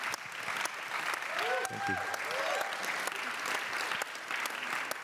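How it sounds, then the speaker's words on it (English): An audience at a conference closing ceremony applauds in a sustained, dense clatter of clapping, while a voice speaks briefly over it. "Join me in generously clapping for this wonderful organization"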